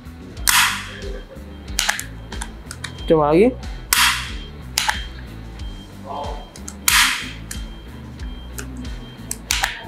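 A MOLLAR 28014144B 5-in-1 staple gun tacker snaps sharply several times in a row, close and loud, with a brief voice speaking between the shots.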